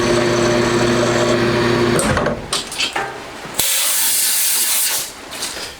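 A lathe turns the main shaft for a homemade 125cc four-cylinder, 16-valve engine, cutting the metal down with a loud, continuous whirring hiss and tonal hum, briefly interrupted by clattering before a bright cutting hiss resumes.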